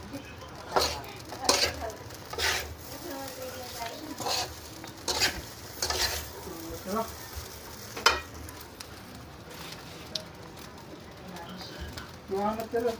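Fried rice stirred and fried in a pan, with crackling sizzle and intermittent metallic scrapes of a utensil against the pan, close by, with occasional faint voices in the background.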